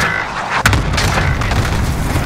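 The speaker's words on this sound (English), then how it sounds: "Allied cluster strike arriving" A cluster strike explodes on Rebirth Island in Call of Duty Warzone, with a sharp boom followed by a loud, rolling rumble of blasts that continues to the end.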